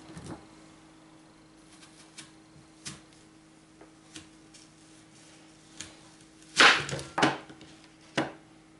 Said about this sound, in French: on va découper nos pommes en rondelles